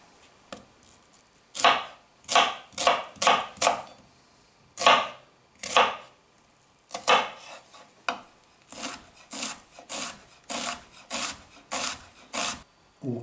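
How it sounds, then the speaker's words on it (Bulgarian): An onion being finely chopped with a knife on a cutting board, giving a steady run of crisp, close rasping cuts in quick bursts with short pauses, no talking. "След морковите нарязваме и лука"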